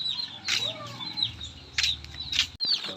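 Young chicks bought as chicks, kept in a small pen, peep in high, thin repeated bursts over a steady low background noise, with a few soft wing flutters among them.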